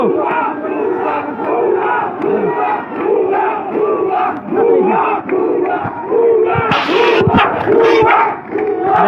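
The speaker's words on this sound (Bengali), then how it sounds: "ভুয়া ভুয়া স্লোগানে কিন্তু নীলফামারীতে মুখরিত।" A large student protest crowd in Nilphamari chants a two-beat slogan in unison, loud and rhythmic, repeating steadily, with shouts and a brief burst of noise near the end.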